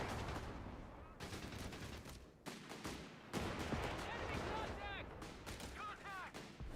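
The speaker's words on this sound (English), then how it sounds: "Grenadier gets now a warm welcome of the 37mm gun and the Pintle." A 37mm gun and a pintle-mounted machine gun open fire in the strategy game Company of Heroes 3, with rapid bursts and booms in a dense battle mix while a commentator talks over it.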